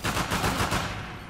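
Rapid burst of automatic rifle fire from the M4 custom in the video game Uncharted 4, loud and close, a dense rattling volley of shots over about a second.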